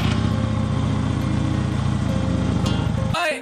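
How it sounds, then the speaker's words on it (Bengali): A Yamaha motorcycle engine runs close by at a steady idle, a loud continuous throbbing drone that cuts off abruptly near the end. "ওই তাও আবার ইয়ামা কোম্পানির বাইক, দেখতেই পাচ্ছেন।"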